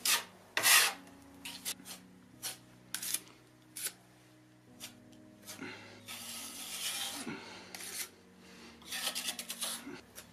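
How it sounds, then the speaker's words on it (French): A cloth or rag rubs over wooden shutters to wipe off excess wood stain, with intermittent scraping and rubbing strokes, some loud and close, separated by quieter pauses and faint background hum. "Hop, j'enlève l'excédent"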